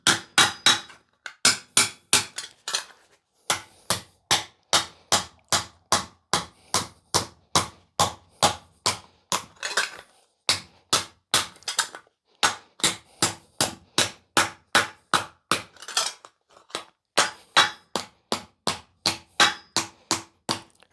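Metal edges are hammered flat over the horn of an anvil, dozens of sharp, steady hammer blows in a fast, even rhythm with a few short pauses, loud and close.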